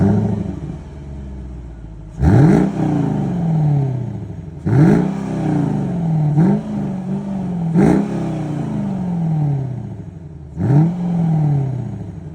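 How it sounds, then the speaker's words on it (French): A Mercedes SLK 55 AMG engine revs hard four times from idle, each burst surging then settling back to a steady rumble, close and loud with no talk. "Tu nous fais écouter le son moteur? Là, on va faire quelques accélérations."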